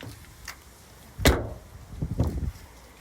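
The door of a 2009 Toyota Prius shuts with a thin, tinny clunk followed by a short rattle, then a second softer rumbling knock. Both sounds are close, with quiet background between them.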